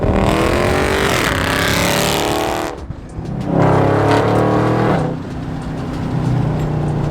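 A 2019 Dodge Charger Scat Pack with about 480 horsepower roars hard under acceleration, its loud exhaust climbing in pitch, dropping sharply at two quick crisp gear shifts, then pulling again.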